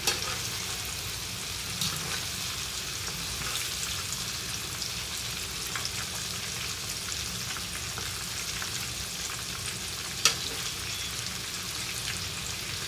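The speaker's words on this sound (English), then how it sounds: "I'm going to fry these, and then I'll get back with y'all" Fried green tomatoes crackle and sizzle steadily in a hot pan of oil, a dense, even frying hiss with scattered pops and one sharper spatter near the end, close and continuous with no talking.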